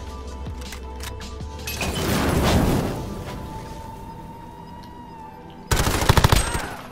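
Gunfire from a Call of Duty Modern Warfare 2 2v2 alpha match, with bursts of shots, a louder crashing stretch around the middle, and a sharp rapid volley near the end.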